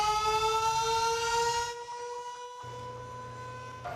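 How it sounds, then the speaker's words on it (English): Dallas city emergency civil defense sirens, 156 of them wailing together, give a loud sustained tonal howl with layered pitches that shifts and partly drops out, heard from a distance across the city. "You are listening to all 156 of the city's emergency sirens screaming in unison."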